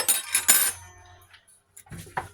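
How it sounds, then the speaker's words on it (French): A metal fork pricks galette dough in a few quick, close taps and scrapes, with brief clinks of cutlery in otherwise near silence. "je prends une fourchette et je pique"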